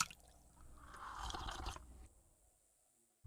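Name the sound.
slurp sound effect of drinking water in video game Betrayer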